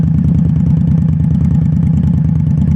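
A motorcycle engine runs loud and close with a steady, throbbing low pulse as the rider works the clutch and throttle during riding practice, holding an even idle-like rumble throughout.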